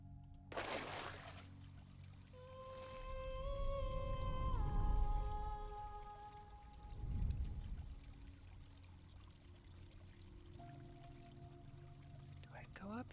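A waterfall in the video game GRIS gives a faint, soft pouring and trickling wash that swells and recedes twice, set under sustained musical tones and a quiet voice.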